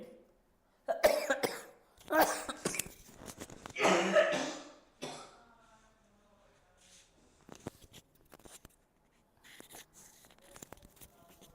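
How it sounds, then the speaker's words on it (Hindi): Several harsh coughs in a row from a person who is unwell, loud and close, followed by quieter throat clearing and faint rustling. "थोड़ा स्वास्थ्य खराब है इसलिए खांसी आ जा रही है बीच बीच में"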